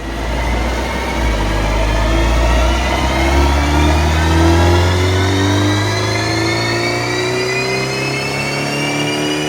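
A tuned BMW 330i G20 with a Stage 1.5 map revs hard on a dyno, its engine note climbing steadily through the gears with rising pitch, loud and close throughout, with no voices.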